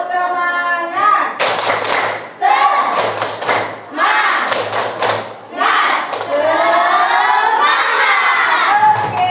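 A classroom of students doing a spirit clapping chant, rhythmic bursts of group claps and thumps mixed with loud unison chanting voices, in repeated close sections separated by brief pauses.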